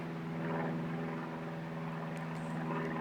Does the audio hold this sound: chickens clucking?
no